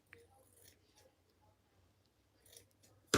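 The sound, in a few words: trimming fabric with bigger scissors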